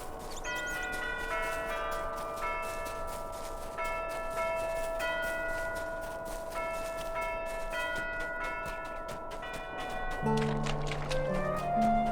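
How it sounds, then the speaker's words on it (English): Bells chime a slow melodic tune in the Lord of the Rings Online game, ringing steadily and moderately quiet over a continuous ambient background, with a lower tone entering near the end. "I love the sound of those bells. It's a very nice tune."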